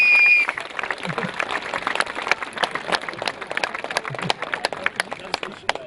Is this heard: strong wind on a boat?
no